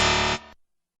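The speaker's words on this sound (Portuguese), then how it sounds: "Tem efeito sonoro de erro." An error buzzer sound effect: a harsh, distorted, steady electronic buzz sounding loud for about a third of a second, then dropping to a quieter tail before cutting off, with no voices.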